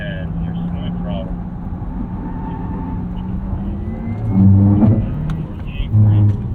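A 2023 Porsche Taycan Turbo electric sports car accelerates around a track at the Porsche Experience Center Los Angeles, its motor whine swelling louder near the end. A driving instructor talks over it throughout.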